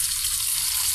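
Curry leaves and tempering spices frying in a pan of oil produce a dense, continuous close sizzle with no voices.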